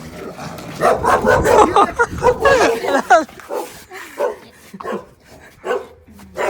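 A dog barks several times in short bursts, mixed in with people talking nearby.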